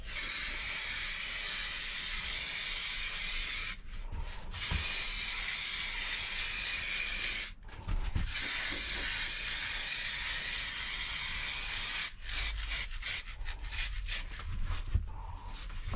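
Aerosol spray paint hissing steadily onto car panels of a Rover Streetwise, a close, loud continuous hiss broken by three short pauses and then a run of quick short bursts near the end.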